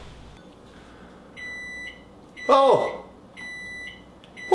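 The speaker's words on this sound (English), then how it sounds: "what's that sound? That actually is the timer." A kitchen oven timer beeps in repeated high, steady bursts, close by, with a brief spoken exclamation cutting across them partway through.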